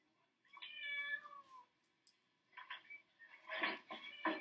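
A cat meows several times, alone in a quiet space: one long drawn-out meow, then a couple of shorter calls and a louder, rougher burst of meows at the end.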